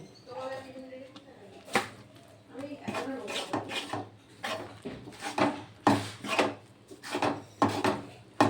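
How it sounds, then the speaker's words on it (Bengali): Rice flour dough for roti being stirred in a pan on a low gas flame, with repeated scraping and knocking strokes of a spoon against the pan in an irregular rhythm, close by and fairly quiet, alongside some talk. "অল্প অল্প করে দেবো আর এইভাবে নাড়তে থাকবো।"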